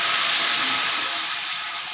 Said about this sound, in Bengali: কষানো হয়ে গেছে, এবারে দিয়ে দেব জল।